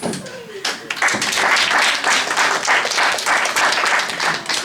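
Sustained applause from an audience, dense steady clapping that swells in after a brief pause and continues at full strength throughout.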